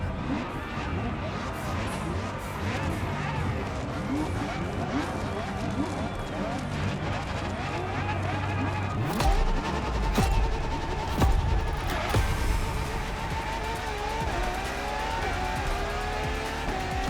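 The LaFerrari hybrid supercar races in The Crew Motorfest, its engine revving in rising and falling sweeps with occasional tire squeal. A voice talks over it throughout.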